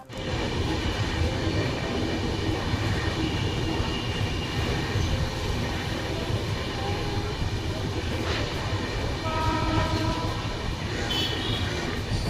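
A passenger train runs along the track on a journey toward Nepal, heard from inside the carriage as a loud, steady, continuous rumble and rattle that never lets up.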